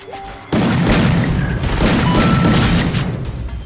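AK rifle gunfire in the shooter game Free Fire: after a quiet half-second, loud sustained shooting and booming impacts fill the rest, dense and close with little letup.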